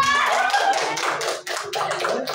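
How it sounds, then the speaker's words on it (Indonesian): A classroom claps for a student group, a dense burst of many hands that ebbs briefly and resumes, close and fairly loud with faint voices mixed in. "Tepuk tangan dulu untuk kelompok 2."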